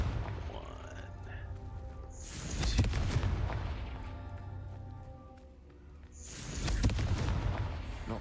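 A Confringo blasting spell goes off twice in Hogwarts Legacy, each blast a broad, loud burst of fiery crackle with a long rumbling tail, separated by quieter game ambience and a voice talking.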